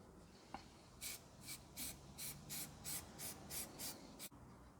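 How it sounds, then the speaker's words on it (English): Copper weld-through primer is sprayed onto metal in about nine short, rhythmic aerosol hisses, each a brief burst with a gap between, close and fairly quiet. "Spraying the metal with this copper weld through primer"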